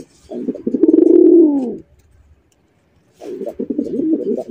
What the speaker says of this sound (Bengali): ভাই ছোটবেলায় কবুতরের ডাক শুনতাম বাক বাকুম